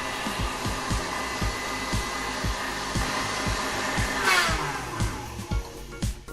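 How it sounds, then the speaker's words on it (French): An electric mixer whips egg whites for meringue, a steady high motor whine with a rhythmic thumping pulse as the beaters strike the bowl, loud and close with no voices. "Et c'est parti pour battre nos blancs d'œufs pendant quelques longues minutes."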